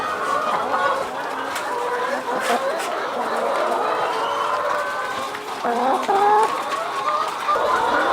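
Hens cluck repeatedly at close range on a farm in Rurutu, with rising and falling calls through the whole stretch and a livelier burst near the end; some chatter mixes in.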